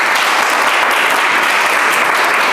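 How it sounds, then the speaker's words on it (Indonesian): A university lecture audience claps in a short, dense burst of applause, loud and even from start to finish. "Wah, kita berikan aplaus juga."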